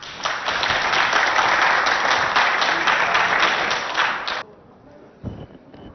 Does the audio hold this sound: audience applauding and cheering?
yes